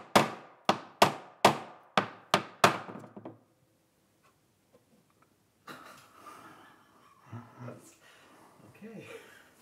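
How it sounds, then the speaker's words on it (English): A hammer strikes a wooden mold seven times in a steady, quickening rhythm, knocking violin ribs loose, each blow a sharp close knock; after a pause a person talks. "I'm going to knock the ribs out of the mold so I can glue them to the back."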